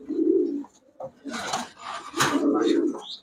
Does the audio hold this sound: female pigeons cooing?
yes